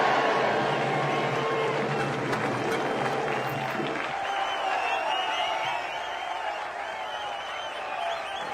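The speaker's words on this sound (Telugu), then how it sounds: "ఈలలు గోలలు" A cinema audience cheers loudly as one crowd, with whistles and clapping at first, and the roar eases slightly after a few seconds.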